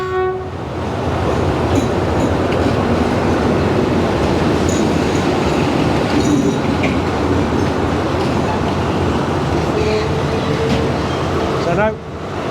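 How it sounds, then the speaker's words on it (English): Old train passing through a station in the rain, a loud, continuous close rumble and clatter of wheels and carriages that holds steady before cutting off near the end. "There's an old banger of a train coming down."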